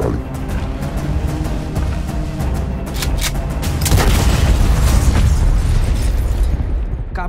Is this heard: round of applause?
no